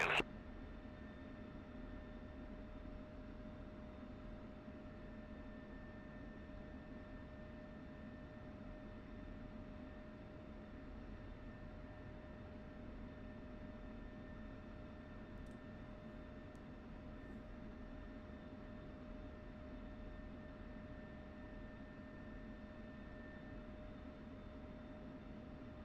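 An F-16 taxiing in the Falcon BMS flight simulator, a faint, steady engine hum with a constant whine running throughout, low and even with no speech.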